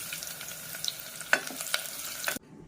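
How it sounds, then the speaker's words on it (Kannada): Onions dropped into hot wood-pressed oil for biryani give a soft, steady sizzle with a few sharper pops and crackles, quiet and close, cutting off abruptly at the end. "ಈರುಳ್ಳಿ ಹಾಕ್ತೀನಿ ಖಾರ ಎಣ್ಣೆಗೆ"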